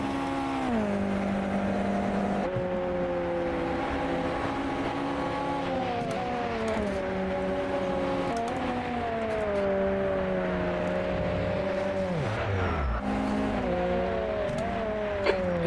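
USF2000 race car in a racing video game at Goodwood, engine droning loud and steady throughout with repeated rises and drops in pitch as it revs up and shifts through gears.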